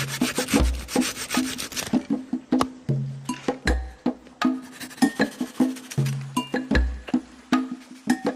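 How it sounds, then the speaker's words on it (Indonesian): A hand saw cuts through a large piece of firewood in a forest, rhythmic back-and-forth strokes, each rasping pass distinct and close, with brief pauses between bursts. "Sedangkan kayu yang berukuran besar, aku memotongnya menggunakan gergaji."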